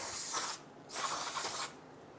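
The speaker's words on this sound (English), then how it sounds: "We're just going to use some solvent. We're going to clean up any of that brake fluid that was leaking out here" Solvent sprayed onto leaked brake fluid around a rear brake hose on a 2002-2008 Dodge Ram 1500, heard as two short close aerosol hisses, the second longer, with a brief pause between.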